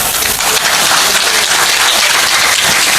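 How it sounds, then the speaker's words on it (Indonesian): A large crowd at a religious lecture gathering claps loudly and continuously for three seconds, a dense, close wash of applause with no talk. "Tepuk tangan."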